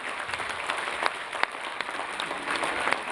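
Steady applause from an audience at a Hindi comic poetry gathering in Sonipat, a dense continuous wash of clapping with a few sharper individual claps, no talk over it.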